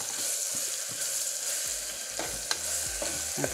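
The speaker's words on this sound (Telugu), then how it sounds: "ఇది కొంచెం వేగేటప్పటికే మనం అల్లం వెల్లుల్లి పేస్ట్ వేస్తున్నాను." Ginger garlic paste frying in a pan for a kodo millet vegetable biryani, a steady close sizzle with soft scraping stirs and a couple of sharp utensil clicks.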